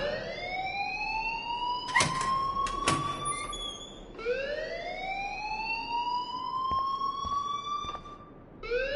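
A rising, wailing alarm siren in a video game sweeps upward twice, loud and close, with a few sharp clicks and thuds breaking in between the swells.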